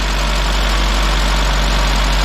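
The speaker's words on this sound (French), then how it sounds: "14 ans sans tourner, de l'essence à coup de clé, ça pète au quart" A Citroën C20XE engine idles after fourteen years without running, freshly started with fuel added. It holds a loud, steady, close rumble throughout, with no voices.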